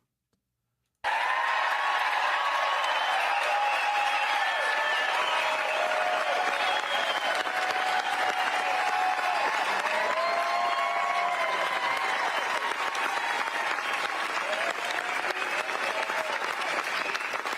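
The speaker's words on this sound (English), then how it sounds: "how long is this fucking applause?" Sustained applause from a large crowd at a political rally, dense and steady clapping that starts abruptly and continues without pause, with scattered cheers within it.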